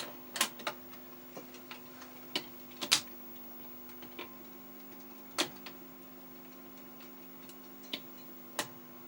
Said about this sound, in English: let's just see if it's going to cycle through these 3 records